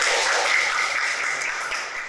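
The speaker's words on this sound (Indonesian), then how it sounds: "Tepuk tangan kita semua" Audience applause at the close of a teacher training session, a steady wash of clapping that fades slightly over two seconds.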